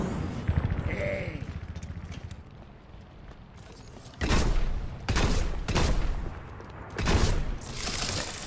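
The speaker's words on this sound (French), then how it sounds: "L'arme principale du nain possède 2 modes de tir." Torbjörn's main weapon firing in Overwatch, a dwarf's gun with a precise primary fire and a short-range shotgun-style alternate fire: sharp, loud bursts of shots in quick succession, with quieter mechanical clicks and rumble before them.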